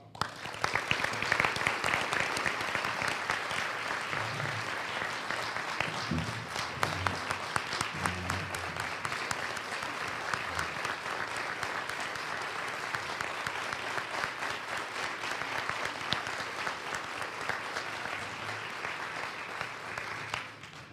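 Sustained audience applause filling a civic State of the City address hall after the mayor's speech, a dense steady roar of many hands clapping that holds for about twenty seconds without letting up.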